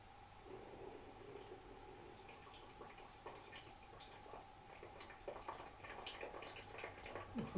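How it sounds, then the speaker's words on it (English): Pressurised water draining from a 10mm radiator pipe while a radiator is lowered, a steady faint hiss and splatter of liquid that holds throughout and grows slightly louder toward the end. "You've got a bit of pressure because it's pressurised water."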